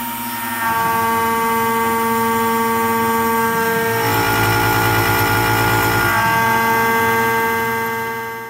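An OpenBuilds MiniMill milling aluminum gives a loud, steady whine with sharp tonal ringing, growing rougher and more chattering through the middle of the cut before settling back.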